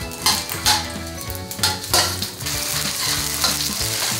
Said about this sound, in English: I'm gonna saute some of the green onion and ginger slice